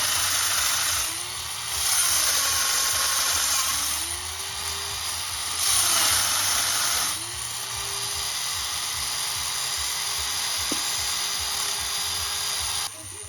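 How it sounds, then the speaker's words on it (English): Power drill boring holes through metal for a lift, the motor whining in steady bursts that rise and fall in pitch as the bit bites, with quieter pauses between and a faint background hum. "He's drilling his holes out right now for his lift."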